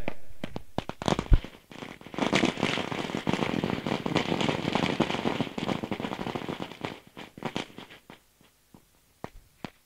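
Firecrackers burst at a cricket tournament's opening ceremony in Ulwe, a rapid, crackling string of loud pops running for several seconds, then trailing off into scattered single bangs.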